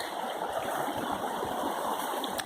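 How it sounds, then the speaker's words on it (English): A small creek flows steadily beside an old road, giving a close, continuous rushing and trickling wash with no talk over it. "This is a nice little walk along this old road next to the creek."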